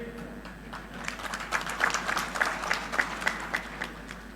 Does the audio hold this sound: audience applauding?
yes